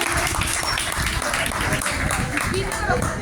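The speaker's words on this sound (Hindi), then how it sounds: "तालियां की गूंज में सर का इस्तकबाल कीजिए।" Applause greets a teacher at a school farewell party, dense continuous clapping from a crowd with a voice speaking over it throughout.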